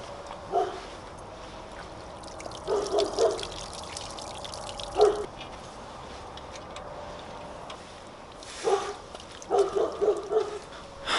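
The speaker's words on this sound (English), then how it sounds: "we'll give it a little bit of time to just drain some of that water out" Water drains and drips from a soaked sleeping bag hanging outdoors, heard as faint, intermittent trickling bursts separated by quiet stretches.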